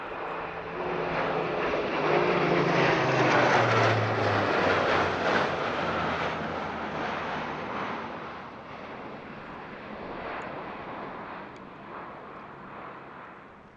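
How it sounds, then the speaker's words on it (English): An Airbus A400M turboprop transport making a high-speed wing rock at the Villaroche airshow near Paris, a broad roaring engine wash that swells and slowly fades, heard from a distance with no talk. "Now we'll see a very good demonstration of the A400M's carefree handling with a pair of 60-degree wing rocks"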